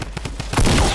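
Video game gunfire: a quick run of sharp separate shots in a rhythmic burst, then a louder, denser blast of fire that trails off, close and alone with no talk over it.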